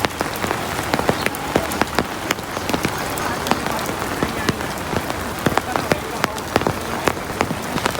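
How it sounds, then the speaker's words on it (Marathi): Heavy monsoon rain pours steadily in Pune, drumming densely on surfaces nearby with frequent sharp drip taps breaking through the continuous hiss. "इथं पाऊस पण लय यायला लागलाय"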